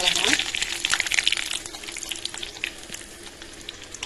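Mustard seeds, curry leaves and green chilli crackle and sizzle in hot oil for a South Indian moor kulambu tempering, a busy spitting hiss that is loudest at first and then settles into a steady fry.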